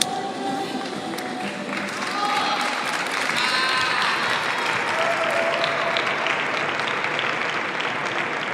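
A padel crowd at a Premier Padel center court in Gijon cheers and applauds, a steady loud roar of clapping with shouts rising from the stands and lasting throughout.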